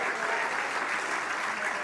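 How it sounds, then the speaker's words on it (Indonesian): Warm, sustained applause from a church congregation clapping for Jesus during a worship service in Batam, a thick even patter of many hands. "Beri tepuk tangan yang luar biasa."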